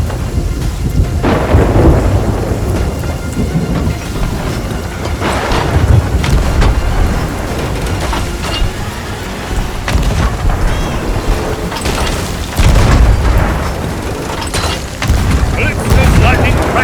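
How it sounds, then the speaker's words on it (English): Lightning strikes and cracks a stone spire in the Sea of Thieves video game, with loud rolling thunder booms and steady heavy rain filling the scene, several big surges rising over the constant storm noise. "Calypso's lightning cracks the spire."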